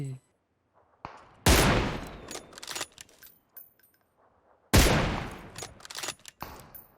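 Gunfire in the PUBG Mobile battle royale game: two sharp, loud bursts of rapid shots roughly three seconds apart, each trailing off into scattered echoing cracks, with brief quiet stretches in between.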